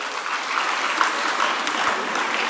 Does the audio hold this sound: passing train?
no